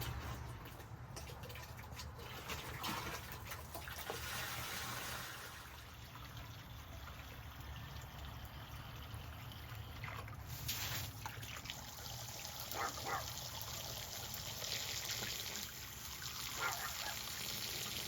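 Water trickles and splashes steadily as a hidden, disappearing water fountain is being filled, a faint continuous flow that runs throughout with no talking.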